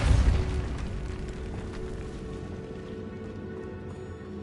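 Spell blast effects in a Harry Potter video game on PS5, a loud booming burst at the start that fades into a rumbling, ringing decay with a layered magical tail and a fresh swell at the very end.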